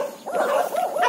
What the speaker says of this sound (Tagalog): May mga aso na dito eh.